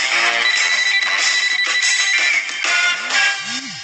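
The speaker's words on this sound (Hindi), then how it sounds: "फोन की घंटी बजते ही लकी को वहां से निकलने का मौका मिल गया" A telephone rings with a bright electronic ringtone, repeating warbling tones that sound loud and close, with no talk over them.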